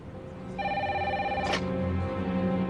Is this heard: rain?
no